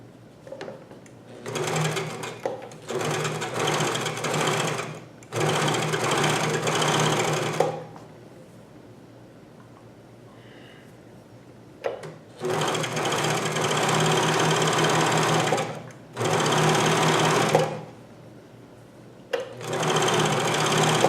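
A Janome 634D CoverPro1000 coverstitch machine sews knit fabric in several loud, rapid-running bursts lasting a few seconds each, broken by quiet pauses between seams.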